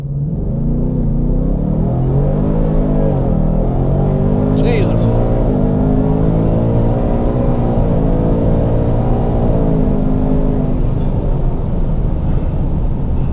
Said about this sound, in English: I'm going to have to pedal it off the line because I do not want to wreck this car.